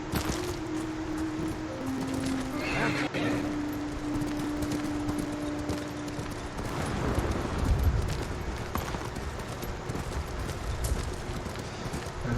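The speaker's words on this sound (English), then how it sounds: "And what happens to these abandoned horses?" Horse hooves clip-clop in Ghost of Tsushima on PS4, a steady trotting rhythm at moderate level over a continuous wind-like game ambience with a faint sustained tone early on.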